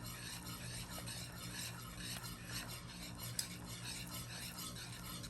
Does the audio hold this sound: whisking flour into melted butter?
yes